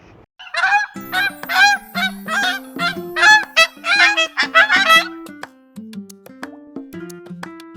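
A goose walking near a pond gives a loud run of repeated nasal honks in quick uneven bursts, close and clear, tapering into softer calls at the end.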